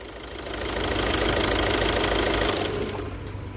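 A 2012 Volkswagen Jetta engine with a knocking fault runs close by, a dense rough mechanical clatter that swells and holds steady for a few seconds before easing off slightly.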